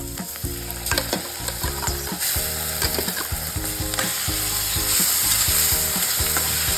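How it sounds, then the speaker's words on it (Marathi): Tomato puree sizzles and spatters steadily in a hot pan while rava upma is cooked, with stirring scrapes and a constant loud frying hiss throughout. "आता आपण जी टोमॅटो प्युरी बनवली होती ती टाकून घ्यायची आहे आपल्याला।"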